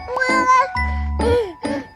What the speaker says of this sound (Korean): 고양이 봄아 고양이